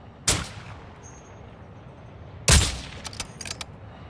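Two sniper rifle shots in Call of Duty DMZ: a sharp crack near the start and a louder, heavier blast about two seconds later, followed by a few smaller clicks and impacts.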